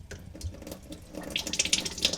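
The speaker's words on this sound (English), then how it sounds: "we'll go ahead and get that filled up with the second thing of water" Clean water poured into the reservoir pan of a countertop ice maker during a cleaning cycle, a steady splashing trickle that grows louder and brighter as it fills, close by.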